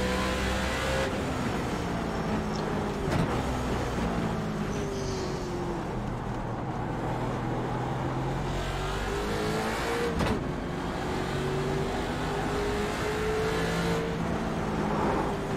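A V8 race car engine at Bathurst drones loudly from inside, its pitch rising through sequential upshifts with sharp breaks between gears over a steady road rumble.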